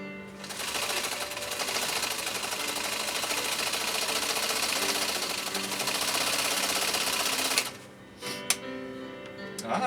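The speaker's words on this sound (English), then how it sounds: "we'll buzz down and do this next decorative stitch option from cam C" A Husqvarna Viking Type 51E sewing machine stitches a decorative scallop pattern from a cam, making a fast, even, buzzing mechanical rattle close by for about seven seconds. A few clicks and knocks follow after it stops.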